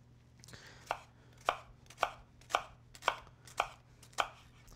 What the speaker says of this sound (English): The next thing we're gonna do is we're gonna mince our shallots.